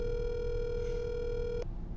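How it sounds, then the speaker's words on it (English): A telephone rings through a handset with a steady electronic ring tone lasting over a second and a half before cutting off abruptly, heard alone in a quiet room. "It's ringing."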